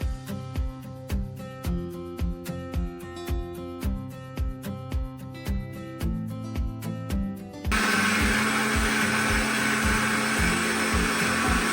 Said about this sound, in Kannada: ಹುರಿದಿಟ್ಟಿರೋ ಮೆಣಸು, ಜೀರಿಗೆನ ನಾನು ಪುಡಿ ಮಾಡ್ಕೋಬೇಕು, ಮಿಕ್ಸಿನಲ್ಲಿ ಪುಡಿ.